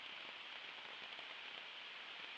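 Heavy rain drums steadily on a camping tent shelter during a solo backpacking night on the Quebec Run, a dense, continuous hiss that fills the space with no voices.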